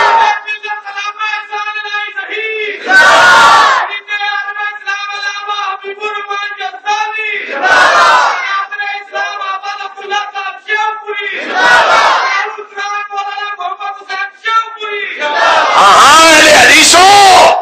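A mosque congregation in Sheikhupura shouts slogans in unison, four loud roaring bursts of the crowd breaking in between a preacher's sustained impassioned speech.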